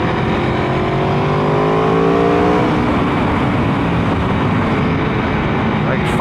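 A Ducati Panigale V4 Superleggera fitted with a full race exhaust, its engine droning loud and steady with rising tones as it accelerates, constant throughout, with talking over it.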